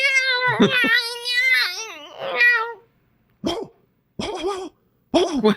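A voice imitates a dog barking: a few drawn-out vocal sounds, then three short, sharp barks spaced apart with silence between them.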